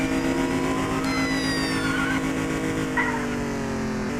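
A car in the video game Dude Theft Wars spins out of control, its engine droning steadily with tire squeal and a skidding whine, loud and close, with no voices over it.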